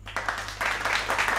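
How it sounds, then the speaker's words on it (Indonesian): A brief patter of clapping for a student named Ica in a first-grade class, a few uneven bursts of hands over a low steady hum, short and fairly quiet. "Ayo semuanya tepuk tangan untuk Ica."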